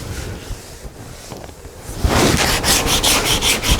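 Hand sanding of body filler on a repair panel, soft scuffing at first, then brisk, loud back-and-forth strokes across the surface, close up with no talk.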